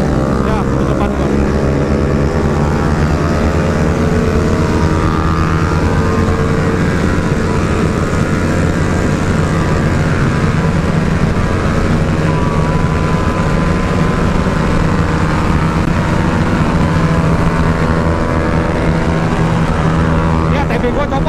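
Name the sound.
motorcycle engine revving and throttle released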